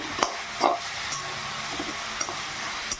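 Leafy greens (saag) stirred and fried in a pan, a steady close sizzle broken by a few sharp scrapes and clatters of a spatula against the metal.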